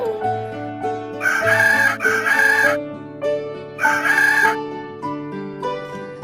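A hen gives two loud, squawking bursts of calls over a cheerful, steady tune, with a short gap between them.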